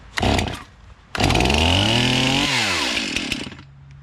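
Repaired Stihl MS291 chainsaw engine revving up to high idle, loud and close, a brief burst then a sustained high-pitched whine that rises and falls before dropping off, with no talking.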